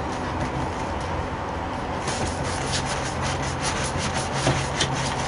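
A Spyderco ParaMilitary 2 folding knife with a CPM S35VN blade saws through rope in a steady, close rubbing and rasping rhythm that grows coarser and louder partway through, with no talking.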